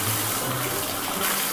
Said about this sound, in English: I'm about to turn the shower on.